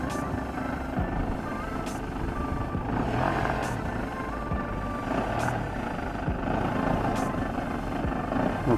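Small RC tow plane engine droning steadily as it taxis forward to pull the glider tow rope taut at a model airfield, a constant buzzing hum outdoors, fairly close, with faint background activity.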